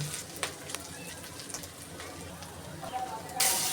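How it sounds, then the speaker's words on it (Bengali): Ginger and garlic spice paste sautéing in a pan, a soft steady sizzle and crackle with scattered spits and pops, under quiet speech. "এখন আমি ভালো করে কষিয়ে নেব যাতে আদা রসুনের কাঁচা গন্ধ না থাকে"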